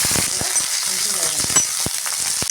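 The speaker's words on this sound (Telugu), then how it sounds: "ఇదే నూనెలో పచ్చిమిరపకాయలు వేసేసుకోవాలి పది పచ్చిమిరపకాయలు" Ten green chillies frying in hot oil for a mint tomato chutney, a bright continuous sizzle with a few spoon clinks and scrapes against the pan, close and without talk.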